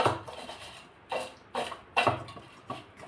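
Sliced bitter gourd being tossed by hand with salt and turmeric in a metal dish, several distinct scraping, clinking strokes at irregular intervals, close and moderately loud with no talking.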